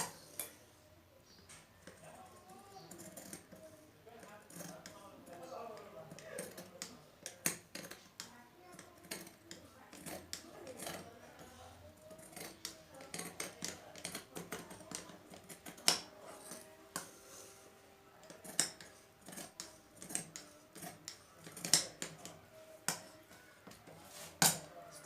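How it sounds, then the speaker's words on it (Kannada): Scissors cut blouse fabric for a size 34 blouse with a long run of crisp, irregular snips and clicks, close and moderately soft. Faint handling noise sits underneath and there is no clear talking. "ಈಗ ನಾವು ಕಟ್ ಮಾಡೋಣ."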